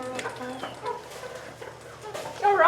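Backyard chickens clucking close by near a coop, a run of short, choppy calls with a louder burst at the end, while a person talks to them.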